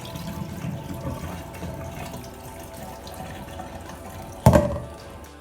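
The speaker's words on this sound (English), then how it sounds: "I'm gonna throw this water off." Rinse water poured off soaked sea moss, a steady trickle and slosh that ends in one sharp splash and spill near the end, up close with no voices.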